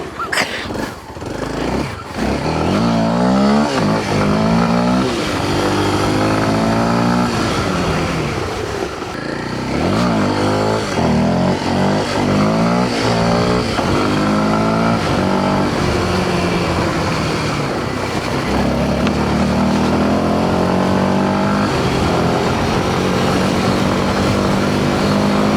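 Kawasaki KLX 230 Indian-variant motorcycle ridden hard off-road in rainy conditions, its engine loud and close, revving up and dropping back again and again in rising and falling surges.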